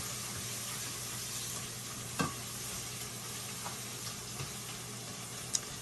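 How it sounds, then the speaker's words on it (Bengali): Onions frying in a pot for chicken biryani: an even, steady sizzle close by, broken by a few sharp scrapes and clinks of a spoon stirring. "এটা বিরিয়ানি রান্না করার জন্য পেঁয়াজ দিয়ে দিয়েছি"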